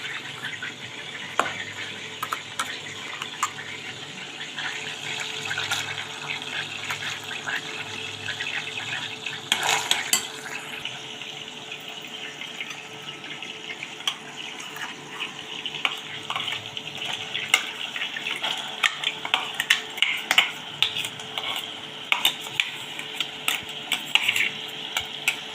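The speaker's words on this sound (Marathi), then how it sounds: "त्याच कढईमध्ये तेल टाकलेलं आहे आणि नंतर पेस्ट टाकून घेऊ कांदे टमाट्याची" Onion and tomato paste fried in oil in a kadhai, with steady soft sizzling and frequent clinks and scrapes of a spoon stirring close by, no voices.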